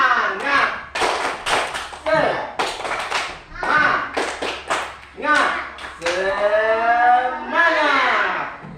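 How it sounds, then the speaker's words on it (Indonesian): A classroom group does the rhythmic 'tepuk semangat' clap chant, sharp patterned handclaps mixed with children's voices chanting along, ending in a drawn-out shouted call. "Tepuk semangat dulu ya"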